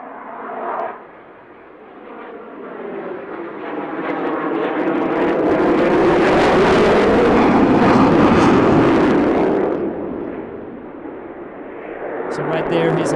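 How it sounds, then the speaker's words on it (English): A jet fighter at full afterburner roars past at an airshow in Kristianstad, Sweden, swelling from a distant rumble to a loud, broad blast and then fading. A commentator talks over it. "So right there he's at full afterburner and he's accelerating to, and a small roll, he's accelerating to be able to pull 9 Gs here in the steep turn."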